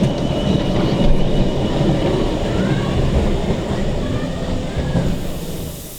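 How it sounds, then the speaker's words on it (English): A Kitson steam tram runs at a heritage town, giving a steady rumbling, hissing roar that holds throughout before easing slightly at the end. "Christchurch double-decker number 26 and Kitson steam tram number 7 are also operating."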